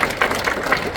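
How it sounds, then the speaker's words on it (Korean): Audience applause welcoming a guest professor at a memorial ceremony for President Syngman Rhee in a memorial hall, a steady wash of many hands clapping with rhythmic swells throughout. "박수로서 환영해 주시기 고맙겠습니다"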